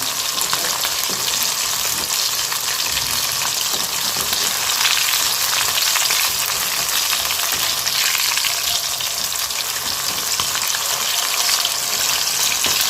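Chicken 65 pieces fry in hot oil with a loud, continuous crackling sizzle as they are turned and stirred in the pan, close and steady throughout without any voices.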